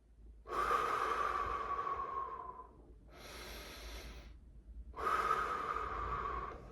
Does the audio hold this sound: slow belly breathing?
yes